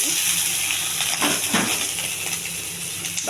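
Coconut, green chillies and onions fry in a pan, a steady sizzle with a few soft scrapes and stirring knocks partway through.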